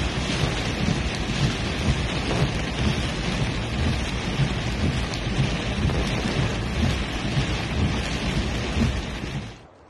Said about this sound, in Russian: Сильные ливни с градом прошли в регионе Аль-Батина.